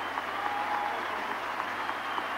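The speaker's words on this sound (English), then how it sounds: "the crowd is not large, but is very enthusiastic" A small but enthusiastic football crowd applauding at a 1986 Canada v England match, steady distant clapping and cheering with no voices standing out.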